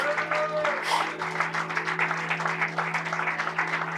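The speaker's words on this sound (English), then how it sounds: "Can we give him a big round of applause?" Congregation applause during a church service, a steady wash of clapping over several seconds with a constant low hum beneath it and faint voices mixed in.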